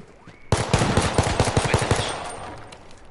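Rapid bursts of automatic gunfire from the H1Z1 video game, loud and close, a dense rattling volley for about a second and a half that then fades into a lingering tail.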